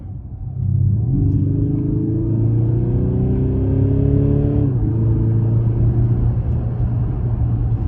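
A 2024 Mercedes GLC 220d diesel engine revs hard and steady, its loud rising drone climbing in pitch and then dropping slightly as the revs ease, held strong to the end.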